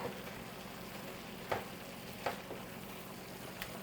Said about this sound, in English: Mix everything together and let it cook.